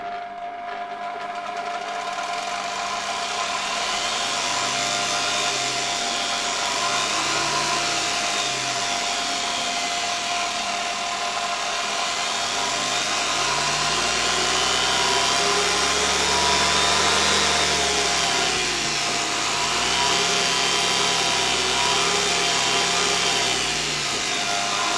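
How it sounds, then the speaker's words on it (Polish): Steady motor whine of a Zelmer type 300 vacuum cleaner motor running on reduced voltage, continuous and fairly loud with a slowly wavering pitch throughout, no voices. "Wydaje mi się, że silnik działa dobrze"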